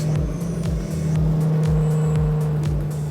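A 2019 Jaguar XJ Super Sport with a supercharged engine runs with a loud, steady low hum and a rhythmic pulsing rumble, close by and with no talk over it.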